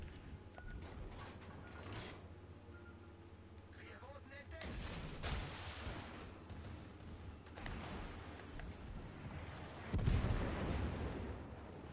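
In World of Warships Legends, the French battleship Richelieu fires its main guns, heavy booms landing at intervals over a busy bed of battle noise and rumbling game sounds.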